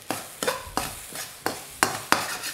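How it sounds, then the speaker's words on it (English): Shrimp paste being pressed and mixed into Indonesian fried rice (nasi goreng) in a wok, six rhythmic scraping strokes of a spatula over a low sizzle, close and distinct. "just make sure you press that into the rice and get it well mixed in"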